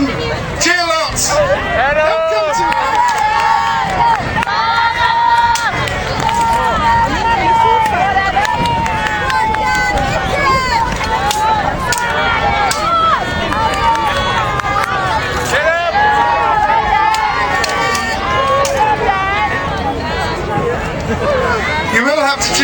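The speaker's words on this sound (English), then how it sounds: "You will have to cheer louder," Spectators at a knights' contest during a summer cheese festival shout and cheer in a loud, continuous crowd roar, many voices overlapping with whoops and calls rising and falling throughout.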